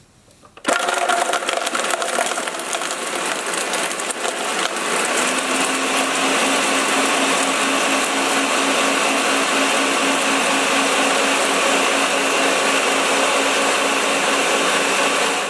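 A Ninja Professional 1100-watt blender starts abruptly and runs at a loud, steady high-speed whine with a constant motor roar, close up and alone for the whole stretch.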